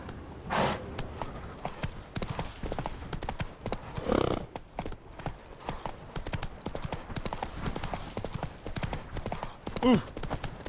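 A horse is ridden in The Witcher 3 video game, with its hooves clip-clopping in a brisk, uneven rhythm. Occasional louder snorts or whinny-like bursts cut through, along with faint game sounds.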